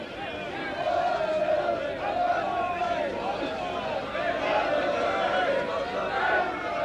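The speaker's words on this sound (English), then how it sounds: "The Wigan fans cheering every individual" Wigan rugby league fans cheer during the 1985-86 Charity Shield against Hull KR, a steady, distant crowd roar with babble that swells slightly and holds throughout.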